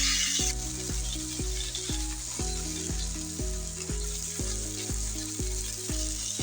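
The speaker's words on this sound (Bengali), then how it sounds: "মাছগুলো ভাজার জন্য দিয়ে দিচ্ছি।" Fish fries in a frying pan on a stove, a steady hissing sizzle that runs under louder background music from start to finish.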